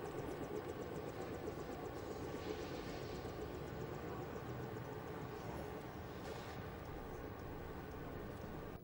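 Helicopter in a Deus Ex cutscene, a dense, steady rotor and engine roar that stays loud and unbroken throughout, with no talk.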